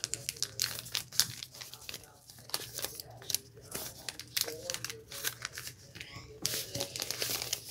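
A sheet of paper has its corners folded inward, making close, busy crinkling and rustling throughout. A person speaks quietly underneath.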